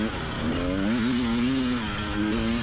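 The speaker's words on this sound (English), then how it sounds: "You may be able to hear his four-stroke behind me every once in a while." A four-stroke dirt bike engine races close behind a rider on rocky shelf-rock hills during a hare scramble, its wavering tone rising and falling steadily and loudly throughout.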